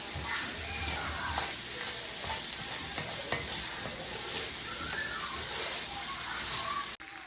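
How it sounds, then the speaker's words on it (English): Red beans are stirred in a pot with a continuous soft sizzle and scraping, heard close and even throughout, with a brief thump near the end. "Our red beans. Stir this around."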